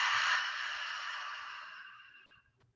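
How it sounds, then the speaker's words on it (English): A long open-mouthed exhale during a yoga session, breathy and airy like fogging a mirror, starting strong and fading gradually over nearly three seconds, close and alone. "As you exhale, exhaling like you're fogging a mirror with your breath."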